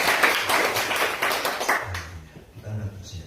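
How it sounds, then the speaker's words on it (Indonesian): Church congregation clapping during a sermon, a dense burst of rhythmic hand claps for about two seconds that fades out, followed by a voice speaking. "Berikan tepuk tangan."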